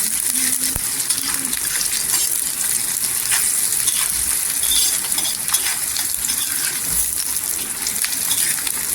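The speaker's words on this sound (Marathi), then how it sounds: "कांद्याचा पूर्णपणे कलर पटकन होईपर्यंत तेलावर परतून घ्यायचा" Onion fries in oil for Maharashtrian chilli-onion thecha, sizzling steadily and close with intermittent metallic clinks and scrapes from stirring; no one speaks.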